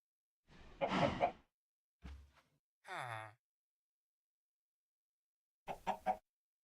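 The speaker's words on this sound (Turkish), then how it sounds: "Tavuk koridorda geziyor." Short clucks and squawks from a Minecraft chicken wandering a corridor in the video game, in a few separate bursts with long silent gaps between them.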